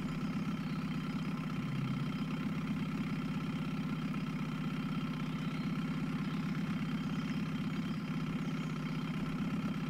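Steady, quiet drone of a boat engine idling in a fishing video game, a constant even hum lasting the whole stretch without change or talk.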